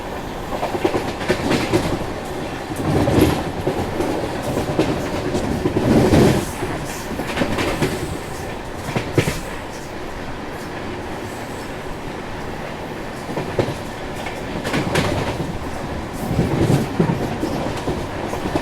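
Karnataka Express running at about 120 km/h on a track upgraded for 130, its wheels beating a steady clickety-clack with periodic louder bursts of rail joints and a constant rumble.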